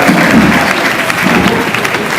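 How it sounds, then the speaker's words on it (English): Steady, loud applause from an audience at a celebrity roast, a continuous wash of many hands clapping with a faint voice underneath. "And we all will be applauding Ginger and Derek."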